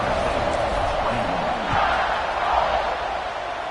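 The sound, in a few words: stadium crowd buzzing in the NCAA 26 football video game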